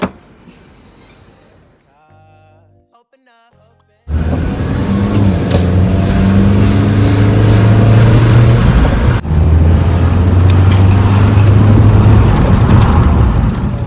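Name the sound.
car with diverter valve making high-pitched sound on test drive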